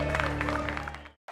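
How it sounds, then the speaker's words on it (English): Studio audience applause at a talk show taping, a dense wash of clapping that holds steady for about a second before cutting abruptly to silence, then briefly resuming. "Give them a round of applause"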